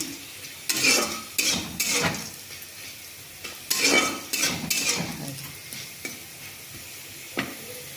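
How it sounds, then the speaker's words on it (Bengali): Steady sizzling of potatoes frying in a pan, broken by repeated scraping stirs of a utensil against the metal, close up with no voices. "মতো আলু ভাজা করছি"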